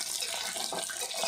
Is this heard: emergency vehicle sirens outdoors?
no